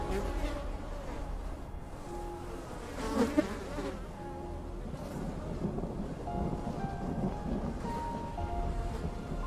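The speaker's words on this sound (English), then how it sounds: "I think I hear bees buzzing around." Bees buzzing around in the fantasy role-playing game Enderal, a steady insect drone under quiet ambient game sound with a brief louder moment near the middle.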